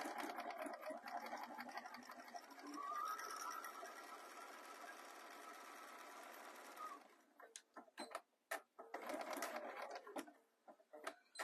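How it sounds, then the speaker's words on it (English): Sewing machine stitching a fabric phone case, running steadily for about seven seconds, then stopping and starting in short bursts, likely back stitches, before another steady run and further short stops, close and alone. "we're going to sew from further up, leave our turning gap, a couple of back stitches"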